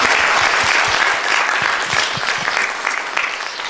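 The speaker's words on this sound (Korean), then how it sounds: "오늘 또 박수 부탁드리겠습니다" An audience claps steadily and loudly after a lecture, a dense, continuous round of applause from a hall full of people that holds at an even level throughout with no speech over it.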